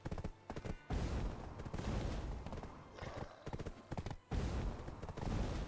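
Horse hooves gallop in Black Desert: rapid, rhythmic thudding beats that come in uneven bursts with short pauses, at a fairly low volume.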